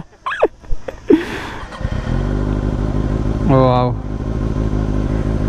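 A Kawasaki ZX-6R 600cc supersport motorcycle rumbles nearby. After a few sharp noises, its engine settles into a loud steady drone with harmonic tones, briefly rising in a rev, while someone speaks over it at the start.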